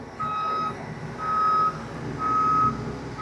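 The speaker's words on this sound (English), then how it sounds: "this big boom forward and reverse to get the axles to their extended position." A boom lift manlift repeats reversing beeps in three evenly spaced pulses over a steady engine hum while its axles extend, clear and moderately close.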